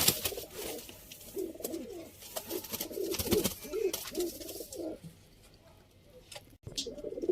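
Pigeons cooing in repeated soft, rounded bursts at close range, with rustling and clicks around them, fading quiet near the end.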